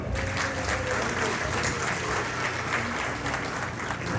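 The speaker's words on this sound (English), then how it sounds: "So please give him a big applause" Steady, dense applause from a large gala dinner audience fills the room throughout, with faint voices and murmurs mixed underneath.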